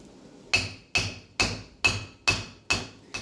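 Seven sharp, evenly spaced metallic hammer blows drive a bearing race home with a driver during a 1991 third-generation Camaro brake service, each strike ringing briefly, close and loud.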